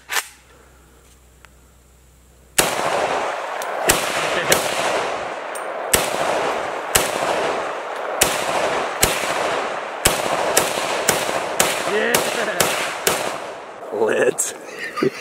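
Gunshots at a gun range: a rapid series of about fifteen loud, sharp, close cracks at uneven intervals, each with a short echoing tail, with voices briefly audible near the end.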